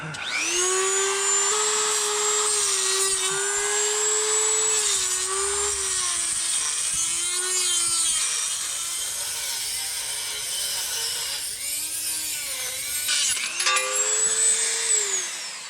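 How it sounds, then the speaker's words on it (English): A Dremel and an angle grinder cut and grind metal on a quick-disconnect install for a Jeep Gladiator Mojave, a steady high whine running continuously and close, dipping and rising in pitch as the tools bite, with no talk. "I went back through with the Dremel and cut a little more of that off. And I went through as far as I could with the angle grinder to grind some of that off"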